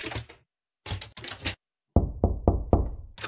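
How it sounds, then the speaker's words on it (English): Knocking on a hotel room door in a horror video game: a group of quick sharp raps, a pause, then four heavier, deeper thuds, close and loud with no talk. "Someone's knocking on my door."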